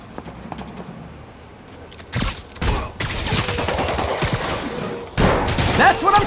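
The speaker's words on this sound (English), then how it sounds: "Gunshot coming!" Gunfire in the Spider-Man Remastered video game: after a quiet opening, loud bursts of shots break out, first as separate cracks and then as sustained rapid fire with heavy booms and clatter, close and intense.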